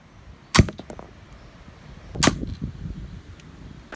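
Two sharp snapping shots from a YJS-3 Stealth crossbow firing bolts, each a crisp crack with a short twangy ring, spaced well apart and loud against a quiet background.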